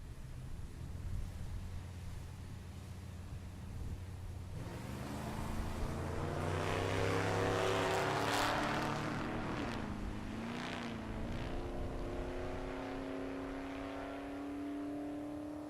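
Drag racing cars at SRCA Dragstrip in Great Bend, Kansas, during Rocky Mountain Race Week: a loud engine roars up and revs, its pitch climbing steadily as the car accelerates away, with continuous rumble throughout and no talk.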